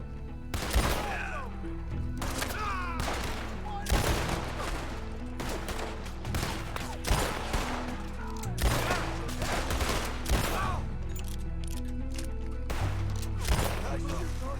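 Sustained gunfire battle in the video game Red Dead Redemption 2, with dense repeated shots and volleys cracking loudly throughout, layered over game music and a voice talking.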